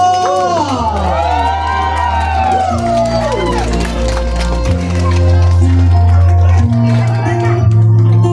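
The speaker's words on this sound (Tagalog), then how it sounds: "masigabong palakpakan na may hiyawan" Loud crowd applause with cheering and whoops, a dense wash of clapping that swells and keeps going, with music and voices mixed underneath.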